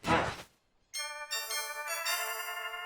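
A short noisy burst gives way after a brief pause to a bright, sustained bell-like ringing with several stacked tones, struck again partway through, in a Mickey Mouse Clubhouse cartoon sound effect.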